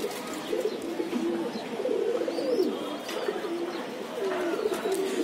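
High-flying pigeons kept in Mirpur coo repeatedly in soft, rolling phrases, close by and fairly steady, with faint chirps and background noise throughout.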